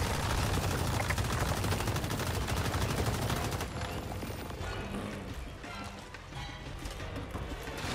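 Sustained gunfire from the survival shooter Once Human pours out in a dense, fast stream that thins after a few seconds into scattered shots and background game noise.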